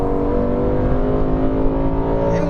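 A V8 sedan engine revs with its exhaust valves open, a loud, steady, deep multi-toned drone that holds close and strong throughout, with no voices.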